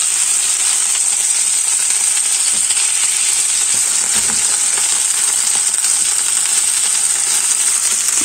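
Chicken breast fries loudly in a hot pan, a dense, continuous bright sizzle close up, with a brief clatter partway through as the meat is turned; no talking.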